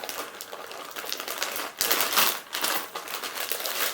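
A plastic zip bag crinkles and rustles as tiles are pulled out of it, with close, busy crackling that comes in uneven bursts.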